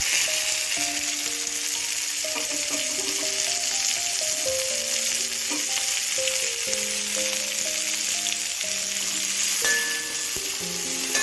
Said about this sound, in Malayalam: നമ്മൾ ചെറുതായി അരിഞ്ഞു വെച്ചിട്ടുള്ള സവാള ചേർത്ത് വെക്കാം